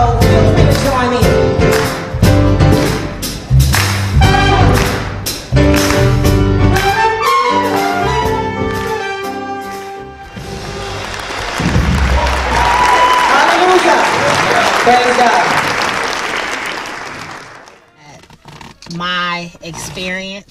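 Church congregation clapping and singing along to a worship song, with rhythmic hand claps under music and voices, then a stretch of broad crowd applause.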